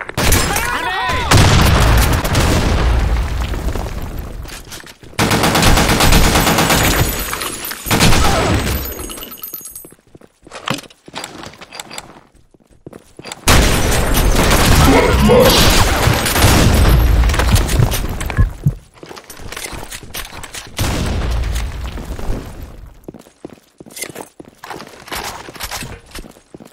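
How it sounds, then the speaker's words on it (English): Grenade blasts and bursts of gunfire in the online shooter Blackshot, loud booming and crackling bursts separated by short quiet gaps, with voice callouts and talk mixed in. "Fire in the hole. Grenade."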